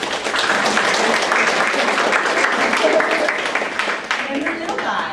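A room full of people applauds a speaker being welcomed to the stage at a Beachbody Super Saturday event in Santa Rosa; dense, steady clapping fills the whole stretch, with a few voices mixed in.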